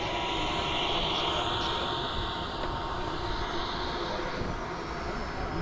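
An EDF model jet at a jet rally airfield runs as a loud, steady, close roar with a broad hiss that holds level and unbroken throughout, with no voices.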